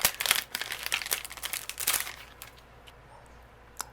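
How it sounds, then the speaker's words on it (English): Paper being die cut for a handmade greeting card, a series of close crinkling and pressing sounds in quick bursts that fade into quiet near the end. "I'll go ahead and die cut this out."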